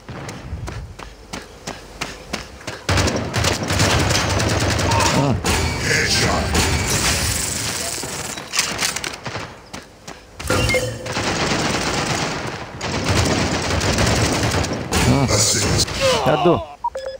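Rifle fire in the shooter game Critical Strike CS comes in loud, dense bursts of rapid shots with mechanical clicks and thuds, broken by short pauses, while a voice talks over the action.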